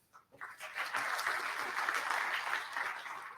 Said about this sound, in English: So let's give him a round of applause to get started.